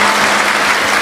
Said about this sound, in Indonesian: Baik, berikan tepuk tangan boleh.